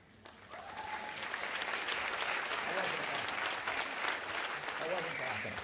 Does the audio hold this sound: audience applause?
yes